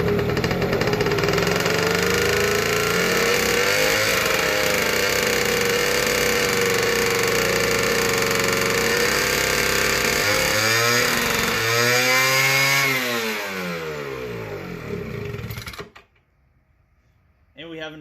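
Engine of a McCulloch 170 arc welder, with an exhaust leak and an ignition fault, starts and runs with a loud, steady buzzing drone, then its pitch dips and wavers before it shuts off into near silence.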